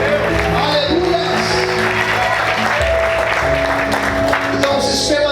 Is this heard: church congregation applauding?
yes